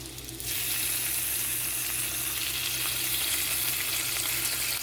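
Naturally hickory smoked Great Value bacon sizzles in a pan at breakfast, a loud steady crackling hiss that jumps up after a quieter start and continues unbroken, close and with no talk.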